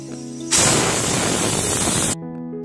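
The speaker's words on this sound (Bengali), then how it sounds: "কুকারটা এখন সিটি দেবে।" A pressure cooker holding semolina with cumin, garam masala, chili and turmeric powders vents steam in a loud, steady hiss lasting about a second and a half, cutting off abruptly into a quiet kitchen.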